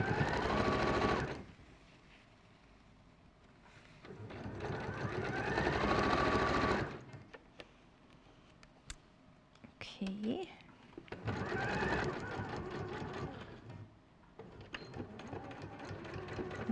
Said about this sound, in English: Just take your time sewing this bit in, so you don't have to unpick anything.